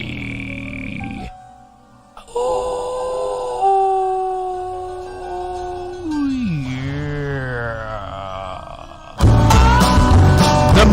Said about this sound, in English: The most famous howl in radio.